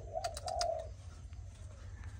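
A young spotted dove of Malaysian stock coos close up, a short burst of soft rounded coo notes at the start, then a quiet low hum.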